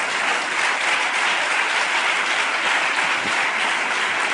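Dense, steady applause from a large audience at a conference, loud and sustained throughout without pause.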